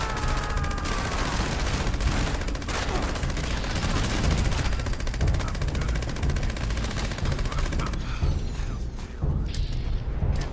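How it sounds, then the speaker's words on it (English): Rapid sustained minigun fire from a Gauss minigun in the video game Fallout 76, a dense continuous mechanical stream of shots lasting throughout, loud and close, with a brief change in texture near the end. "Faster fire rate. Gauss minigun."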